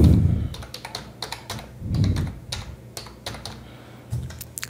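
Login name being typed on a computer keyboard while setting up a user account, a quick run of crisp key clicks in uneven bursts with brief pauses, close and clear, with no talking.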